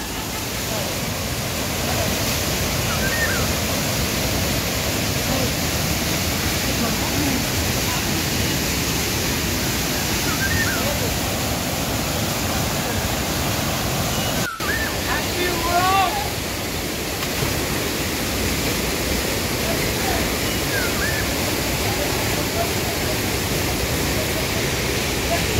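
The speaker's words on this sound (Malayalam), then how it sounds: "മലയുടെ മുകളിൽ നിന്നും പല മരത്തിൻ്റെ വേരുകളിലൂടെയൊക്കെ ഒഴുകി വരുന്ന ഒരു വെള്ളമാണ്" Water tumbling down Seethargundu Waterfall from the mountain near Kollengode, a loud, dense, unbroken roar of falling water heard close up and steady throughout, with no talk over it.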